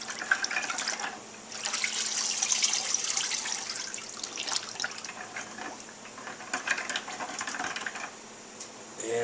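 Carburetor parts are stirred in Pine-Sol cleaner, the liquid sloshing and swirling with soft splashes and light clinks, close up and continuous with no talking.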